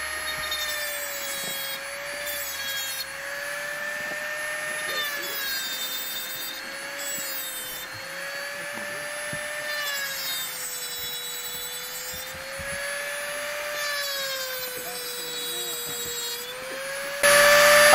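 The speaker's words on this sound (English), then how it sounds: "you can just take the Dremel tool out and sharpen it up" Dremel rotary tool sharpening a chainsaw chain at a seminar: a sustained high motor whine that wavers slightly in pitch, with grinding rasps as the stone works each cutter, close and steady throughout.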